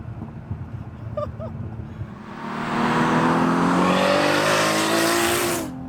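A 900 hp Nissan Skyline R32 GT-R idles with a lumpy burble, then revs up hard into a loud, sustained high-rpm wail that cuts off sharply at the end, close by.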